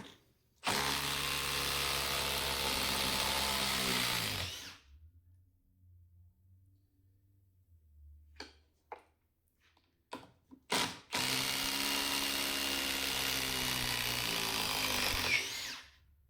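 Two long bursts of a power drill running hard, backing out PowerPro wood screws, each lasting several seconds with a strained, ratcheting whir, separated by a quiet pause with faint clicks and handling knocks.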